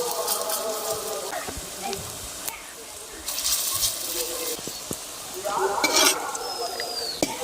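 Close-up sizzling and crackling of banana flower dumplings frying in hot oil, with occasional stirring scrapes and light clinks between bursts.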